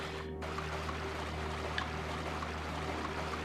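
Steady underwater bubbling from the video game Chained Echoes, a soft continuous gurgle with a faint pop midway, no voices.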